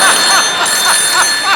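A telephone rings on a call with repeated electronic trills, about five evenly spaced bursts, loud and close, alone without talk.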